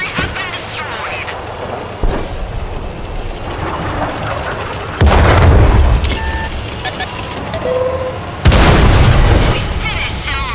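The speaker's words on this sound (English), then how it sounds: "Oh, artillery's aiming at me." Artillery fire in a video game sends three heavy explosions booming out at spaced intervals, each a sudden loud blast over a constant rumbling battlefield background.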